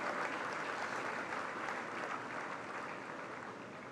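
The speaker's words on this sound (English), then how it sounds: "Give yourselves some applause for having that done." Graduating students at a business school convocation ceremony applauding together, a sustained even wash of clapping from a large hall that fades slightly toward the end, with no speech over it.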